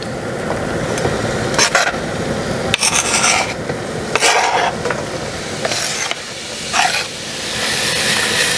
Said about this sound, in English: I'm going to saute my onions and my garlic